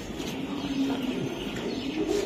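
A racing pigeon gives low rolling coos that run across the whole stretch, close and steady over a soft background hum.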